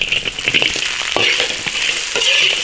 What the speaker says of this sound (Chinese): 翻炒一分钟